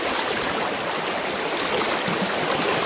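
A river rushes past in a steady broadband wash of flowing water, close and continuous with no pauses.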